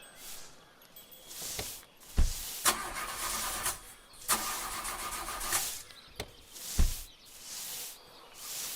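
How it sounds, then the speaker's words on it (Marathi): A car engine failing to start: repeated starter cranking bursts, several short cranks separated by pauses, each catching briefly without settling into an idle, fairly quiet and without speech. "माझ्या गाडीचा प्रॉब्लेम झालाय, स्टार्ट होत नाहीये."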